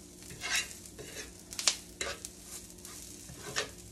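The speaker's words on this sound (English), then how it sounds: "I'm gonna turn this down some because this kale's cooking fast." Kale cooking fast in a pan, a quiet sizzle under several scraping stirs and light clinks of a utensil against the pan, close but soft, with no voices.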